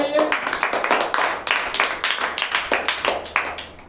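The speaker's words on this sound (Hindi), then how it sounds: "जोरदार ताली बजाइए।" Schoolchildren in a classroom clap loudly and rhythmically in quick, even bursts, with voices talking underneath the clapping.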